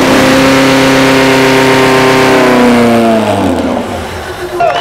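A 1500-horsepower drag racing motorcycle engine roars loud and close at an exhibition stand, its high revving tone holding steady before the pitch slides down and fades.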